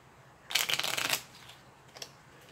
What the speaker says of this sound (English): So let's give it a quick ripple shuffle.